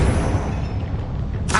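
A Confringo blast spell goes off in the Hogwarts Legacy video game, a single loud, close boom with a sustained rumbling tail.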